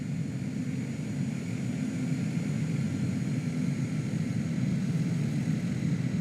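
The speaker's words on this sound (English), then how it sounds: "We're going to get to the runway and then taxi the whole length of the runway, and then we'll take off." A simulated airplane taxis in Microsoft Flight Simulator 2020 on an alpine airfield in Bavaria, its engine giving a steady, loud, droning hum with a deep rumble that stays constant throughout, with no voices.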